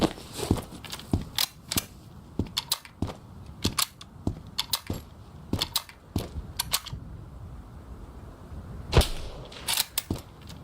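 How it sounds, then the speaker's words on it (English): Gunfire in the shooter video game Road to Vostok, with many sharp, irregular shots cracking close by in quick bursts and scattered single shots, and one especially loud report near the end. "Who the heck is shooting at me now?"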